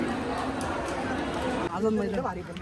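A crowd waits for a local train at a Mumbai railway station, a dense hubbub of many overlapping voices with some nearer speech standing out toward the end.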